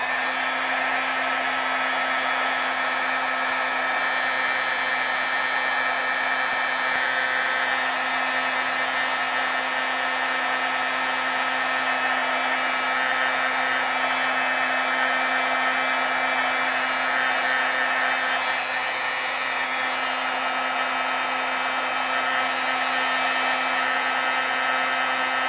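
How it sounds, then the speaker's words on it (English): A standard heat gun blows steadily close by to dry freshly stamped ink, a loud constant whooshing roar with a fixed low hum, unbroken for the full length. "So just your standard heat gun."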